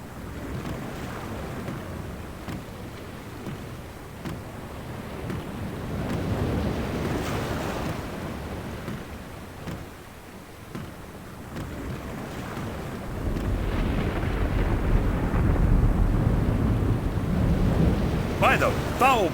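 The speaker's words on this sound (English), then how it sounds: "The storm is closing in." A storm at sea in The Longest Journey game, with continuous roaring wind and crashing waves and a deeper rumble building in the second half, like rolling thunder.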